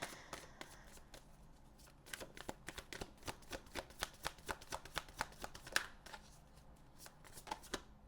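Affirmation cards are riffle-shuffled up close, with steady rhythmic flicks repeating for several seconds at a quiet level and no voices.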